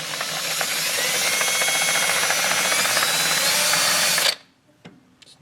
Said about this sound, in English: I'm just going to sand this face down of the piston a little bit.